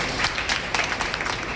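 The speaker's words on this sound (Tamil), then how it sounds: "நல்ல கைத்தட்டு" Brief, steady applause from an audience at a gathering honouring officials and the Pudukkottai Rotary Club, dense clapping throughout.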